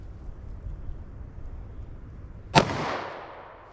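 .38 Special Hornady Critical Defense round fired into ballistic gel, a single sharp report after a quiet outdoor stretch, with a short decaying echo.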